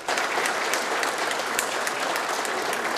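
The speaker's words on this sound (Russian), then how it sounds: "главного героя дня встречали стоя и аплодисментами" Steady applause from a large audience filling a hall at an anniversary celebration honoring a politician in Oryol, dense continuous clapping held at an even level throughout with no voices.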